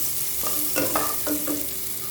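Green beans are stir-fried in a pan, where a low steady sizzle carries a few quick spatula scrapes and clinks in close succession.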